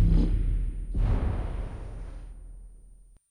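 A grenade goes off in the BGMI battle-royale game as a short boom, then a second heavier burst that rolls off into a fading rumble, with no voices.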